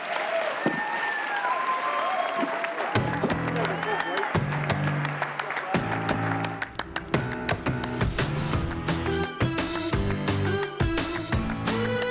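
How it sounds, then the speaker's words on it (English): Audience applause at a democracy forum, a moderate patter of clapping that continues under music and a speaking voice as the event closes. "Give these guys a big round of applause."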